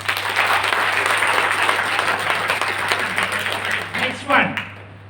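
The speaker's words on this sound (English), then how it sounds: "Good round of applause." Audience at an entrepreneurship skills session applauds in a full, continuous burst of clapping, tapering off near the end as a voice begins speaking.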